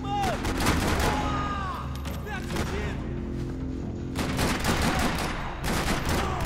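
Max Payne 3 firefight with rapid bursts of close gunshots, some in quick volleys and others spaced apart, while a voice talks quietly underneath.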